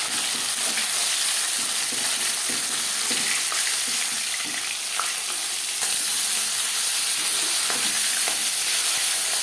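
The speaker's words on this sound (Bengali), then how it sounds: "মাছ একটা সাইড ভাজা হয়ে গেলে" Fish frying in oil in a pan gives a loud, continuous sizzle, with occasional clinks and stirring noises and a slight jump in intensity midway.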